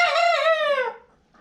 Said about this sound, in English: So I'm guessing those are hens,